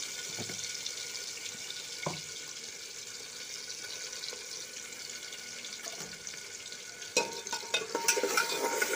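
Masala fries in hot oil with ridge gourd while it is stirred, giving a steady crackling sizzle with occasional spoon clinks and scrapes that grow busier toward the end.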